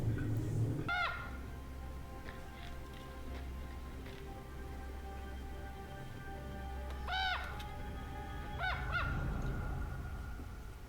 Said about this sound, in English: It's a beautiful bird.